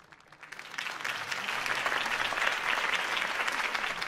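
Applause from a large crowd in the video game Batman: The Telltale Series swells within the first second and then holds at a steady, dense roar of clapping.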